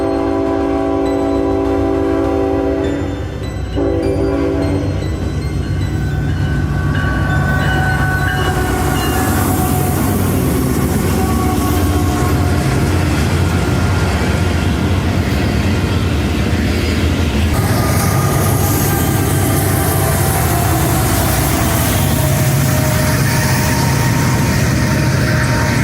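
Freight train led by a tier 4 locomotive passing close by, a loud continuous rumble of rolling cars with a horn blast near the start and wheel clatter and squeal throughout.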